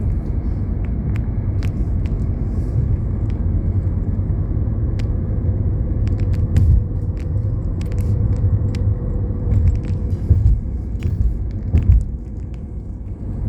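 Steady low road rumble from a car cruising along a scenic route toward Potts Preserve, a continuous engine and tire drone with occasional faint clicks and bumps, no talking.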